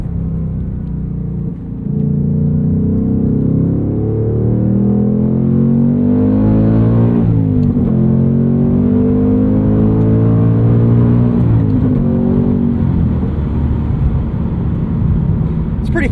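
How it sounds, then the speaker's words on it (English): A 2024 Ford Mustang Dark Horse, 500 hp with a six-speed manual, accelerates hard on track exhaust, its loud engine note climbing steadily through the gears with brief dips at each shift, sustained and close throughout. "let's just go ahead and deploy the track exhaust"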